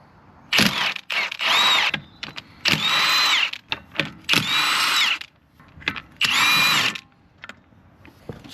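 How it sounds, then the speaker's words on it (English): A power tool removing wheel nuts from a 2007 Subaru Impreza WRX: about five or six loud whirring bursts, each lasting under a second, separated by short pauses with faint clicks and handling noises. "So, let's get your wheel off."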